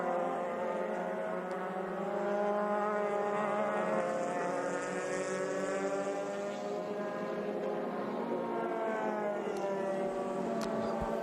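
Formula 3 race cars on a formation lap in Belgium, EuroFormula Open 2015, on Michelin tyres: engine drone with stacked rising and falling harmonics from several cars passing at a distance, steady and moderately loud.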